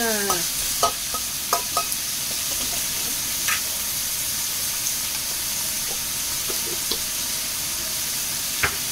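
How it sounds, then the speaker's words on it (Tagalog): Sprouted mung beans are stirred in a frying pan over a steady hissing sizzle. Scattered light scrapes and knocks from the utensil sound close and fairly loud. "At ihalo na uli natin ang ating pinatubong munggo."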